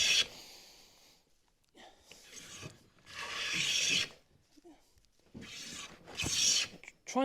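A hand plane draws full-width shavings from a wood board in about five distinct rasping strokes, each a short scraping burst separated by quiet pauses, close and clear.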